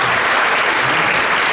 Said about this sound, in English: Round of applause for the 7th graders.